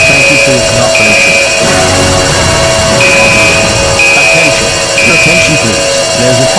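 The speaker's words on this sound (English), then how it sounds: "There is a fire alarm going off in the facility." A facility fire alarm sounds with steady loud tones and repeating beeps over a busy background din.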